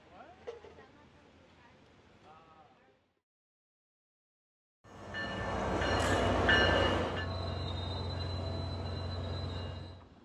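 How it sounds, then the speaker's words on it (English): After a few seconds of quiet ambience and a silent gap, a SunRail commuter train in Orlando rumbles loudly past nearby, wheels grinding and squealing steadily until it fades. "The Sunrail is the local commuter train in the Orlando area"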